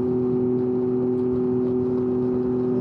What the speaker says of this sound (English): My ears are already ringing from this exhaust